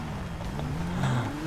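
Engine of the Oppressor motorbike in GTA V, a steady droning hum that rises slightly in pitch, loud and close with no talk.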